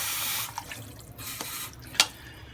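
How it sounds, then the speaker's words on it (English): Tap water running into a pot of beef noodle soup stock, a steady faucet stream with a few splashy drips and one sharper splash near the end, heard close and alone. "add some water inside the stock"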